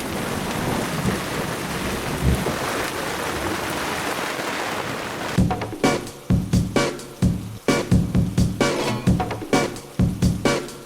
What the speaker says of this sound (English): Rain, thunderstorms, lightning, not a time to take the boat out on the Neuse River.